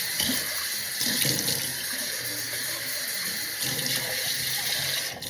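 Tap water runs steadily into a sink as soap is rinsed out of a pot, a continuous close splashing hiss with small shifts as the water is swirled and poured, and no voices.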